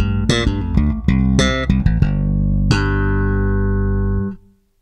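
Modern active Fender bass played through both pickups: a run of plucked notes with strong low fundamentals and bright attacks, ending on one long sustained note that rings out before cutting off, loud and close with no talking.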